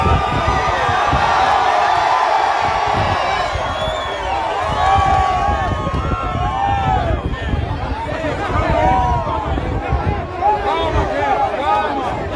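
An outdoor crowd cheering and applauding the president during a visit in southern Bahia, loud and close, with shouts, whistles and bursts of clapping over constant crowd babble and voices talking nearby.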